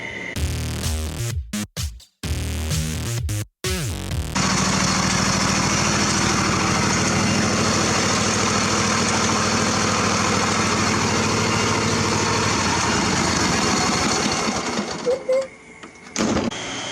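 A John Deere tractor fitted with dual wheels starts with a few sputtering bursts and then settles into a loud, steady idle close by. The idle runs for about ten seconds before cutting out near the end.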